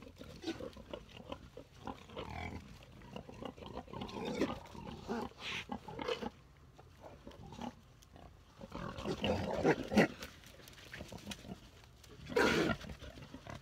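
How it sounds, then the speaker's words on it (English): Several farm pigs in a pen grunt, snort and squeal, overlapping and rowdy. Bursts of louder squealing come and go, and the sound is close and busy throughout. "This is like a pig discotheque, you know, when it gets a little bit rowdy."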